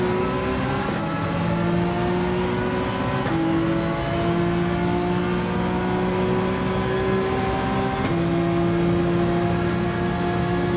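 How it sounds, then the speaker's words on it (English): GT3 race car engines in Gran Turismo 7 at Barcelona, with Ferraris among them, revving loudly through rising gear pulls, each climb in pitch cut by a shift, sustained and close with no talking. "Those Ferraris are a lot faster, accelerating out of first gear"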